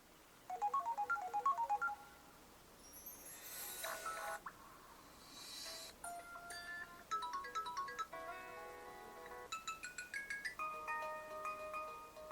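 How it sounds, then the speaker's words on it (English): A Samsung Galaxy S4 plays several ringtones in turn: a short bright chiming phrase, a rising sweep, then quick melodic beeping tunes, all quiet and clear with no talk. "This is my current ringtone."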